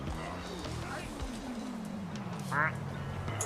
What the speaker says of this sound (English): That's the noise of the duck.